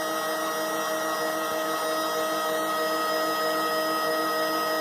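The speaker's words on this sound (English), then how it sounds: "it's going to try and clean the nozzle" Steady, unbroken mechanical whir of a 3D printer running its nozzle-cleaning routine, a constant hum with high tonal whine lines and no clear pauses, close and moderately loud.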